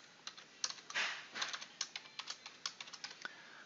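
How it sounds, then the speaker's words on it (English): Someone types a password on a computer keyboard: a quick, uneven run of soft, close key clicks with slight pauses, fairly faint against a quiet room. "So I'm going to come in here and put my password in."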